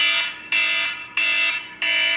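A phone alarm sounds in repeated harsh electronic bursts, four loud tones each lasting about half a second with short gaps, close and alone.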